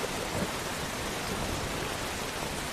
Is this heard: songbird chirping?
no